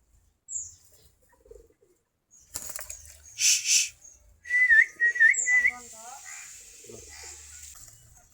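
A flock of native Desi Giribaz pigeons at feeding time gives off short bursts of wing flapping among thin whistles and chirps, with quiet stretches between the bursts.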